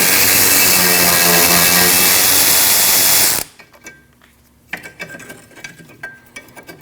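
A ratchet clicks rapidly and loudly at close range while loosening a 12mm bolt on the rear lower control arm of a 2003-2008 Subaru Forester, followed by quieter clinks and handling noises after it stops.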